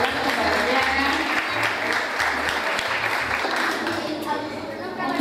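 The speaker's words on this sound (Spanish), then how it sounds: "Fuerte aplauso para Kiara Medido Feo." An audience at a children's dance event applauds in steady, sustained clapping, with a low rhythmic music beat underneath and some crowd murmur.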